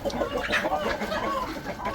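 Several laying hens and roosters cluck and chatter continuously at close range, a busy overlapping flock sound with no clear pauses.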